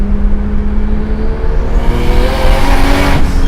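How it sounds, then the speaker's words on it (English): A 500 hp Nissan 240SX with a swapped GT-R engine accelerates hard, its loud rising engine note climbing steadily with a faint tire squeal, close and continuous with no talking. "this has a GT-R engine, and it's fast"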